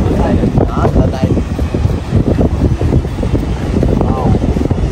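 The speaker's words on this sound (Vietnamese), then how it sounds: "Giờ này đứng ở đây là gió lồng lộng luôn. Gió thổi." Strong sea wind buffets the microphone on a seaside observation deck, producing loud, continuous gusty roaring and rumbling throughout.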